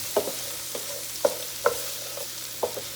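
Onion sizzling in bacon drippings over medium heat, a soft steady fry with a few sharp spoon taps and stirs spaced through a short quiet stretch, close up with no talk.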